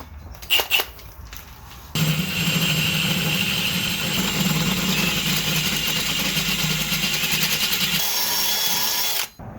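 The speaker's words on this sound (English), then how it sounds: "we'll go ahead and drill out these knuckles, these holes in the knuckle rather, with a 1/2-inch drill bit." A power drill with a 1/2-inch bit bores holes in a Subaru steering knuckle, whirring up after a few short bursts into a loud, steady grinding drone that holds for several seconds before spinning down.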